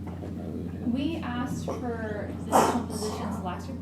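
A single sudden sneeze bursts out during a budget committee hearing, short and fairly loud, cutting through a man's ongoing speech in a meeting room.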